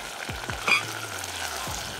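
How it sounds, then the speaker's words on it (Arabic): Garlic frying in a pan for koshari, a gentle continuous sizzle with a few soft pops and a brief brighter spatter, close and quiet, no speech. "التوم بس اتحمر شوية"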